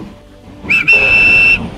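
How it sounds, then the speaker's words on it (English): A railway guard's whistle gives a short shrill blast, a brief break, then a steady piercing tone held for about a second, close and loud, with no voices. "The guard blew his whistle"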